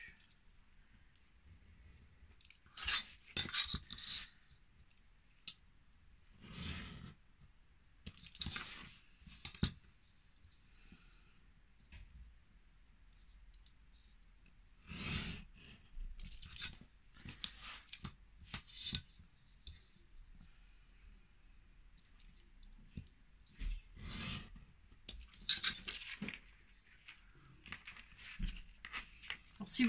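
Paper trimmed with scissors in short, crisp bursts of snipping and crinkling, close but fairly faint, separated by quiet gaps during a craft session for a hippo-themed album page.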